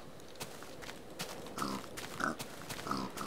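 A pig in the Minecraft Tekkit modpack grunts three times in quick succession, short close oinks over a low steady game background, with no talk.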